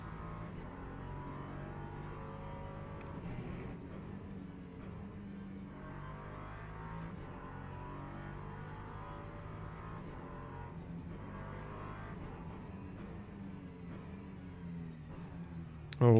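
A race car engine in Le Mans Ultimate drones continuously with shifting pitch as it accelerates and brakes, steady and fairly quiet throughout, with no talking.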